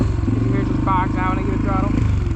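A dirt bike engine running on choke in cold, humid weather chugs steadily and close by at a rough idle, with a person talking over it.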